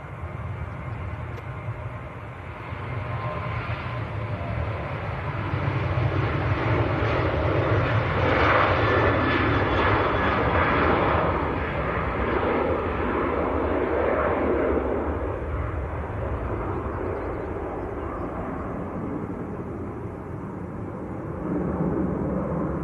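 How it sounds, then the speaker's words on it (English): A Ryanair jet bound for Dublin begins its takeoff roll at Leeds Bradford Airport, engine roar building to a loud, rumbling peak midway and then easing into a sustained distant drone. "Ryanair's just about to start, just about to roll. So Ryanair to Dublin."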